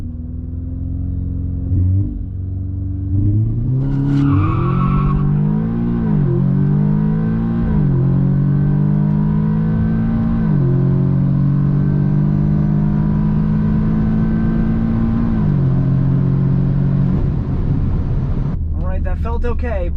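A Stage 2 Audi S3 launches down a quarter-mile drag strip, its engine roaring loud and close through successive gear changes that drop and climb in pitch, then easing off near the finish with a short burst of noise.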